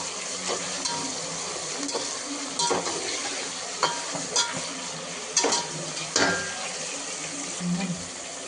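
Onions frying in a pan for a home recipe: a steady close sizzle runs throughout, broken by occasional scraping stirs and clinks of a utensil.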